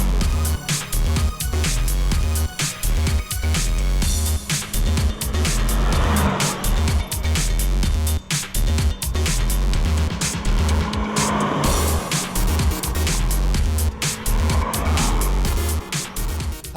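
A Renault Gordini 1600 races up a hillclimb course, its engine revving hard and rising and falling through gears with tire squeal and skids, loud and close with no talk.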